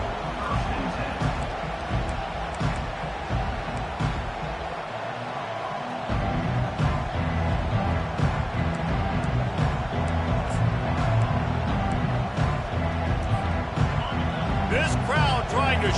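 Home crowd at an Ole Miss football game roars steadily in the stadium, a broad sustained wash of cheering with a play-by-play announcer talking over it.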